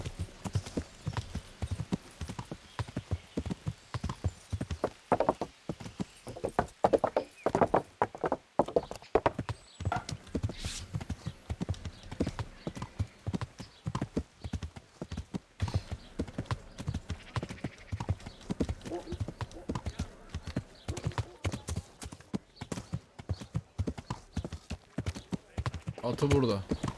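Horse hooves clip-clopping in the medieval game Kingdom Come: Deliverance, a steady rhythmic trot of close hoof strikes on hard ground, with occasional whinnies and game voices talking over the top.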